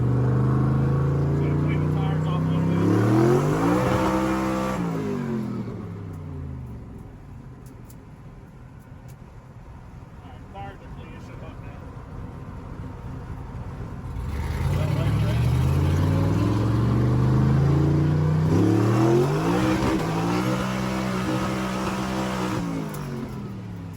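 A 1000hp Corvette on its low boost setting accelerates hard, engine rising in pitch through two loud full-throttle pulls separated by a quieter cruising stretch, with people talking inside the car.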